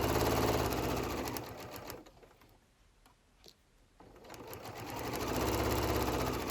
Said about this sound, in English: Stitch it together all the way along, removing the pins as you go.